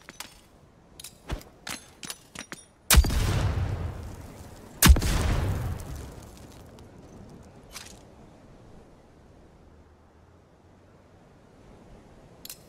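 Two sharp, booming grenade blasts in the video game Rogue Company, each with a decaying rumble, come after a run of small clicks and taps, with a faint thud later.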